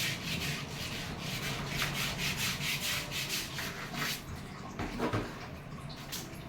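Steady, close scrubbing on a rusty toilet bowl in a bathroom, a continuous rough rubbing texture with rhythmic strokes and slight watery swishing throughout.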